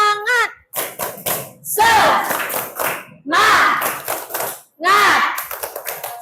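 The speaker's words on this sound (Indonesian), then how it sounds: "Tepuk semangat." A classroom of children doing a rhythmic spirit clap chant with their teacher, loud bursts of shouted chanting alternating with quick patterned hand claps, close and energetic.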